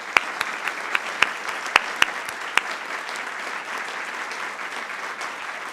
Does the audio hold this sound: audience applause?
yes